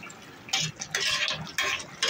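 Beef is stirred and fried in a pot with spice masala, the spoon scraping in several loud, close bursts over a soft sizzle; no voices.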